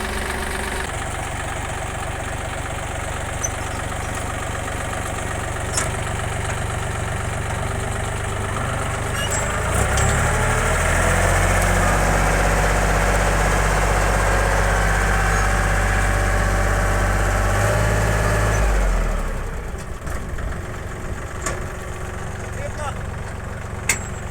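A mini tractor pulling a cultivator and potato planter runs with a steady close engine drone, rising to a louder, heavier labouring tone in the middle before easing back to idle-like running.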